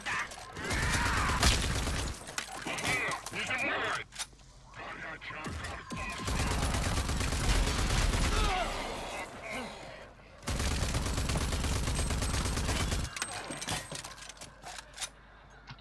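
Gunfire and grenade blasts in the shooter game Rage 2, bursts of rapid automatic shots and mechanical clatter in loud clusters separated by brief pauses, with a player talking over the action.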